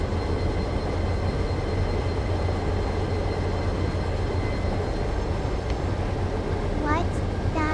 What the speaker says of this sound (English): As it powers down the gently sloping tracks ahead, I am enjoying getting a feel for how this locomotive handles under different